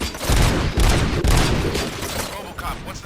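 Gunfire in the video game RoboCop: Rogue City, heavy booming bursts of shots with rumbling low impacts, loud and dense, over an ongoing game soundtrack.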